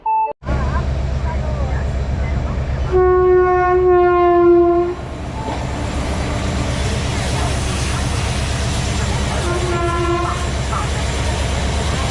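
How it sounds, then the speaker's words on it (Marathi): The Kalburgi-Kolhapur express pulls into a platform with a continuous rumbling roar. Its horn blasts twice, first long and loud, then a shorter one, over a murmur of voices on the platform. "Kolhapur fast express is arriving shortly on platform number 2"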